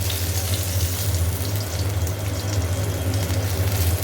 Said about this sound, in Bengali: এই যে আমার হাতেগুলো ভাজা হয়ে গেছে আর অল্প রয়েছে, এখানে চলছে ভাজা আরেক ক্ষেপ।